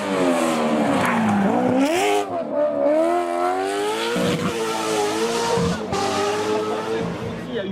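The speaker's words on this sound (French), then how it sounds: "L'Aston Martin, aujourd'hui, on en parle encore pour le bruit absolument incroyable de la voiture." An Aston Martin rally car at the Rallye du Var roars close by, its engine rising and falling sharply through revs and gear changes, with brief tyre noise and faint voices in the background.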